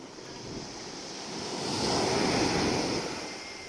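Ocean waves breaking on a beach at evening: a single wave swells into a loud roaring rush of surf that peaks mid-way and slowly recedes, with wind noise over the microphone and no talking.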